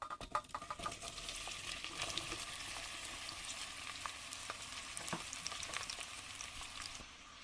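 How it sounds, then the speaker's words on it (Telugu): Onions fry in hot oil with mustard seeds and cumin: a constant crackling sizzle dotted with sharp pops and ticks, heard close and alone at a moderate level. "ఇప్పుడు ఈ ఆవాలు జీలకర్ర వేసేద్దాం. తర్వాత ఈ ఆనియన్స్ కూడా వేసేసుకుందాం."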